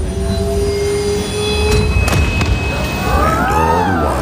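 Riding a train home: steady rumble of wheels on rails with squealing tones and tonal whines rising and falling, close and continuous throughout.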